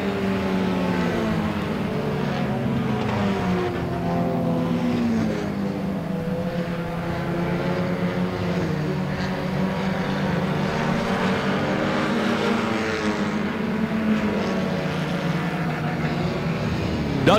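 Four-cylinder division race cars circle a short track in a continuous, steady engine drone with overlapping harmonic whines as several cars run together, loud and sustained throughout.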